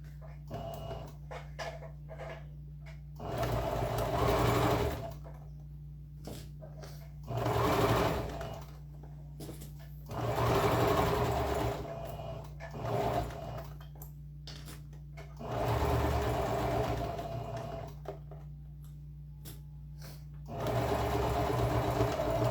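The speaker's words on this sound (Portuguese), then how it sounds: "Passo uma costura." Sewing machine stitching a seam on a shoulder bag in a sewing workshop, running in several bursts of steady whirring with short quiet gaps between them, close and clear.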